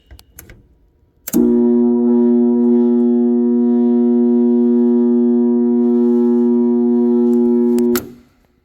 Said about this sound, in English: the humming obviously lets me know there's power. Capacitor's fine. It's trying to turn.